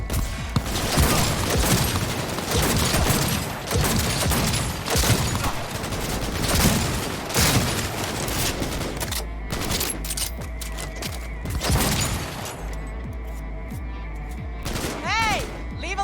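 Turret in Cyberpunk 2077 firing rapid, sustained automatic bursts, loud and close, with further shots and scattered sounds continuing toward the end.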